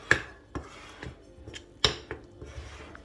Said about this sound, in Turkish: İlk önce kaşıkla karıştıracağım.